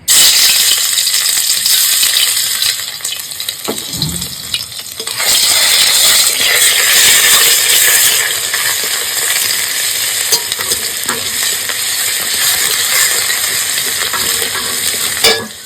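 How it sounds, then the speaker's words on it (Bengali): Garlic paste sizzles and spits steadily in hot oil for a Bengali sole fish kaliya, a dense, loud frying hiss with a brief stir and clatter near the four-second mark. "তেল গরম হয়ে গেছে, এইবারে আমি দিয়ে দিচ্ছি রসুন বাটা।"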